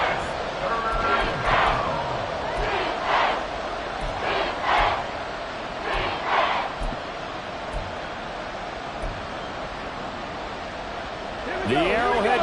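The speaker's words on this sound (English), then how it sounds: "The Arrowhead crowd in full roar" A roaring football crowd fills Arrowhead stadium, a steady broad wash of noise rising and swelling in waves throughout, with bursts of louder cheering and a surge near the end.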